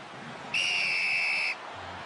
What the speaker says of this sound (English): Blast of the whistle, penalty for Toulouse.